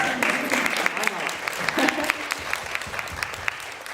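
An audience at a festival panel claps in a steady round of applause, moderately loud, with individual claps standing out and voices mixed in.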